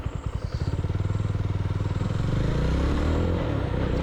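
A Jawa 42 FJ motorcycle engine thumps steadily while being ridden, a close, even single-cylinder pulse that swells into a louder, denser drone partway through, with no talking.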